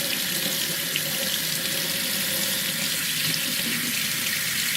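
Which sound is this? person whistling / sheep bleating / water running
water running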